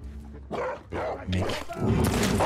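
Dogs in The Last of Us Part II bark repeatedly in loud, close bursts, with someone speaking briefly over them.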